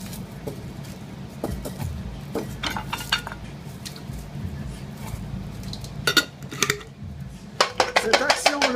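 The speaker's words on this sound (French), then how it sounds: "On va prendre les gousses d'ail et on va les brasser vigoureusement dans un pot." Garlic cloves with their tops and bottoms cut off, shaken vigorously inside a closed pot, giving loud clattering, rattling bursts that grow more intense toward the end, with soft clinks in the pauses between them.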